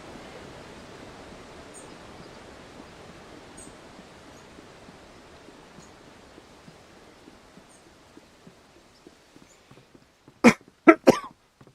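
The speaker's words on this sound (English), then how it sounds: "Sorry about the coughing." A few loud coughs burst out near the end, three or four harsh close hacks after a long stretch of quiet rushing water-like noise with faint scattered clicks.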